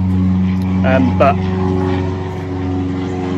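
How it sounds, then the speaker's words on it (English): An aeroplane drones overhead as a loud, steady low rumble beside a pool being pressure washed, with someone speaking briefly over it. "Noisy aeroplane."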